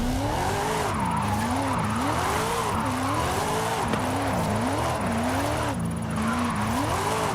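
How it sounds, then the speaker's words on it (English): Buick GNX on drift tires sliding sideways in a rear-wheel-drive drift in Forza Horizon 5, a loud, continuous tire squeal that wavers up and down in pitch over a steady engine drone. "rear wheel drive drift"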